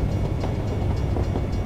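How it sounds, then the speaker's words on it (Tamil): A train rumbles past in American Truck Simulator, a loud, steady low roar with faint rhythmic clicks of wheels over rail joints throughout. "ட்ரெயின் போயிட்டுருக்கு"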